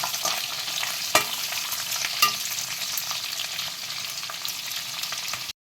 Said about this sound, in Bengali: পনির ভাজার তেলটার মধ্যেই আমি ক্যাপসিকামগুলো ভেজে নেব।